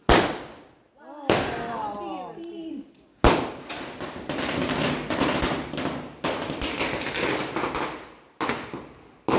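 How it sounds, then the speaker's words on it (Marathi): Firecrackers bursting at night during a family celebration: sharp loud bangs followed by long crackling bursts, with voices calling out between them. "नंतर रात्री सर्वांनी फटाके फोडले."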